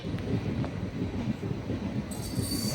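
The Jammu Tawi–Varanasi Begampura Express, train 12238, rumbles past nearby, with a steady low roar of wheels on rails and a faint high squeal near the end.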